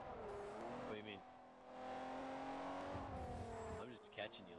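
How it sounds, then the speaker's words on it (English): Racing game engines roar and rev with tire squeal in a two-door car race as a truck passes, with shifting pitch and a brief thump, mixed under people talking. "Did you hear that truck?"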